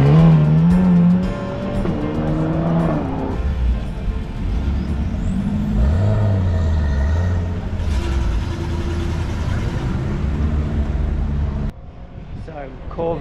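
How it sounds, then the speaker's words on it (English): Classic cars such as Corvettes, AC Cobras, Ferraris, Porsches and MGAs at a beachfront rally in Anglet, engines idling and revving nearby as one drives past, steady rumble with a voice talking over it. "we stumbled across a classic car rally on the beachfront in Anglet."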